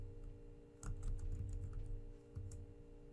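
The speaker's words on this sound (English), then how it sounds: "Now we'll type ls-F." Fingers type a short command on a computer keyboard, a quick close run of soft key clicks with a brief pause and a couple of final taps, no talking.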